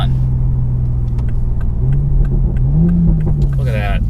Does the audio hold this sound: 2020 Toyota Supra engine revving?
yes